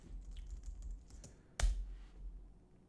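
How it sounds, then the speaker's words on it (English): Typing on a computer keyboard into a search field: a handful of soft, close keystrokes followed by one sharper, louder key press, with no voice over it. "let's just type Kommo"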